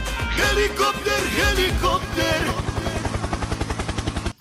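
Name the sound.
helicopter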